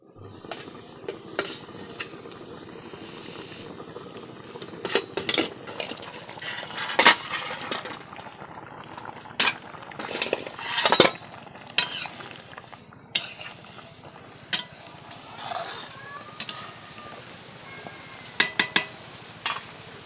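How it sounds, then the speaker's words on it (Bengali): Dishes, plates and utensils are washed in a home kitchen, with scattered clinks and clatters of metal and crockery at an uneven pace, fairly quiet overall with occasional sharper knocks. "কিছু থালা বাসন হয়েছে সেটা আমি ধুয়ে নিয়ে আসবো"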